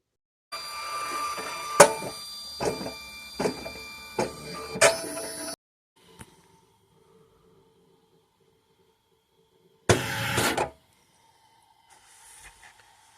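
A Videojet 6530 thermal transfer printer whirs and clunks in several uneven bursts as a ribbon mandrel struggles to couple with its motor, then falls quiet before one more short mechanical burst, close and isolated.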